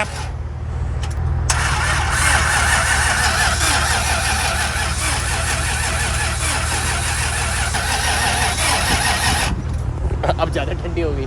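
A 1967 Shelby GT500 Eleanor V8 catches after a start attempt and keeps running, a loud, steady engine roar dominating throughout with a brief cranking burst at the start, fading near the end.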